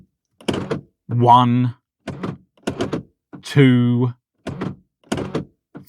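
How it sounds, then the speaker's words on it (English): Central door locks on a Ford Mondeo Mk3 clunk shut and open repeatedly, worked from the driver's door. Short, sharp thunks alternate with a voice counting aloud. "via the driver's door only, lock and unlock the car 3 times"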